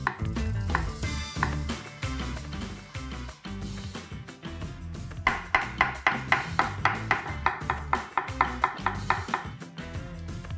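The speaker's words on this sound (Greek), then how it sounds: "πάμε να ψιλοκόψουμε το κρεμμύδι, το σκόρδο" Onion, garlic and mushrooms are finely chopped with a knife on a cutting board, first in scattered cuts, then in a fast, steady run of crisp, evenly spaced knocks, close and clear with no talk.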